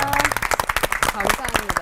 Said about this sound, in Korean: 귀한 말씀 아낌없이 들려주신 세 분 목사님께 박수 한번 보내드릴까요?